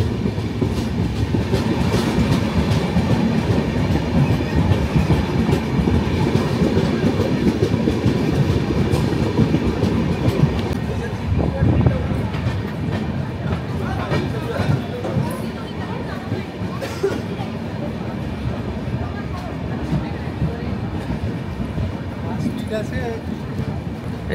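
The Tamrolipta Express, Howrah to Digha, at Contai (Kanthi) station: a heavy rumbling train drone with rhythmic rail clatter, loud and continuous, with a murmur of voices underneath.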